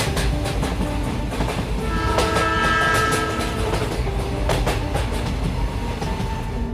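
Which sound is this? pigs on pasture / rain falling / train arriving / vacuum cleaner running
train arriving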